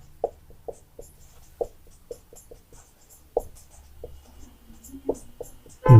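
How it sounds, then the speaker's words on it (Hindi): Pen scratching on paper while a maths solution is written out, short separate strokes in an uneven rhythm, close and clear against near silence, ending in a louder bump. "तो यहाँ पर लिखते हैं"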